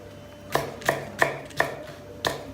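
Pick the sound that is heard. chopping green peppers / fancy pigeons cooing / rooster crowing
chopping green peppers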